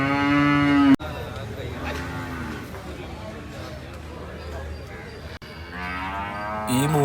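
Bulls moo at Manjeri cattle market, with a loud, drawn-out low call at the start and another rising moo near the end, over a steady murmur of crowd and market noise.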